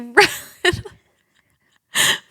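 A person mimics a sneeze with a loud, forceful "achoo," preceded by two short vocal bursts and a pause; the imitation stands alone near the end, close and clear.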